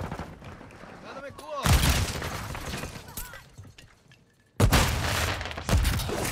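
A stun grenade detonating in Call of Duty: Modern Warfare II multiplayer, heavy bangs and bursts of gunfire cutting in sharply over game noise while a player talks between the blasts.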